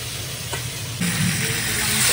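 Hilsa fish pieces go into hot oil and a steady sizzle rises, swelling louder about halfway through and holding close and continuous to the end, with no voices.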